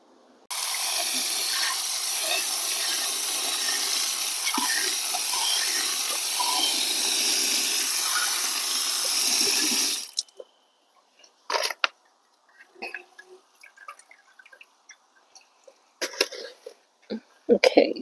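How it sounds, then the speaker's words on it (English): Water from a tap or hose rinsing pon plant substrate, a loud, steady hissing rush lasting about ten seconds, then stopping, followed by scattered clatter and brief handling noises. "we gotta wash off some pon, rinse it off."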